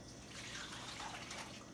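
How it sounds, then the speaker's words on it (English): Brine pours steadily into a plastic bag held over a kitchen sink, a faint, continuous liquid trickle and splash. "And pour the brine in here."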